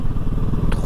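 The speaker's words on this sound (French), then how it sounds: "On va tester la souplesse du moteur." A 2023 Kawasaki Versys 650 engine pulls through the gears while ridden, a loud, steady low-pitched drone with slight rough pulsing close to the microphone.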